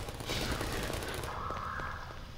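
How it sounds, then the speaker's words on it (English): Automated gun turrets in Half-Life 2 fire in a rapid, fairly quiet fusillade, a dense rattle of shots over the game's background noise. "Turrets are doing work though for a change."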